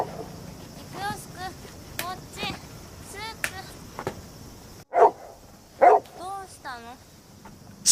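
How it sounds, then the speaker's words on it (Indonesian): A dog barks repeatedly in short bursts, some loud and close, mixed with other film sounds. "masih saja menggonggong karena dia mengenali pria tersebut"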